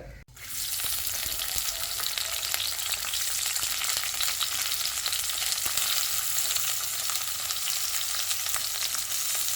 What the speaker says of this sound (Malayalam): ഇഞ്ചി അരിഞ്ഞതൊക്കെ ഇടണം പച്ചമുളക് വേപ്പില സവാള ഇപ്പോൾ ചൂടായി വരട്ടെ